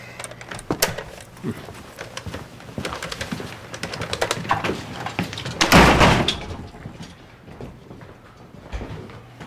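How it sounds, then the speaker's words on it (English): A door swings shut with a loud, close thud and rattle around the middle of the sequence, amid scattered clicks and faint background noise in an indoor space. "Now, close the door behind you."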